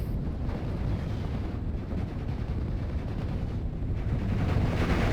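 Mortar and machine gun fire from a Steel Division: Normandy 44 battle blends into a steady, dense roar of distant blasts and rattling shots that never lets up.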